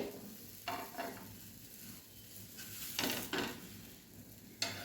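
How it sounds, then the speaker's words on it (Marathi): A beetroot paratha roasts on a pan after being flipped, giving a faint, quiet sizzle broken by several soft scraping and pressing bursts from a spatula, with no talking. "ह्या बाजूने सुद्धा गोल्डन रंग येईपर्यंत आपल्याला व्यवस्थित असा भाजून घ्यायचा आहे आणि छान क्रिस्पी असा करून घ्यायचा आहे"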